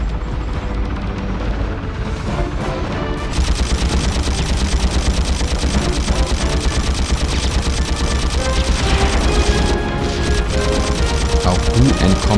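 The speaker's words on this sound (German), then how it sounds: "Es dauert Jahrzehnte mit dem Maschinengewehr." Rapid automatic gunfire with explosive booms in a PS2 action video game, dense and continuous throughout with loud overlapping bursts and someone talking over the gameplay.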